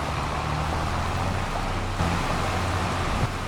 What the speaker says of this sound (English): Still raining.